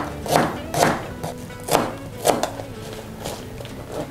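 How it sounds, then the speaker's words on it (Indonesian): An onion being thinly sliced with a knife on a cutting board, giving about six distinct crisp chops spaced roughly half a second apart, fairly close, with no talk. "Diiris agak tipis gini bawang bombaynya."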